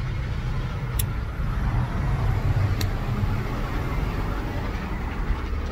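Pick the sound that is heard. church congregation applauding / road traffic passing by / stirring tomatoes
road traffic passing by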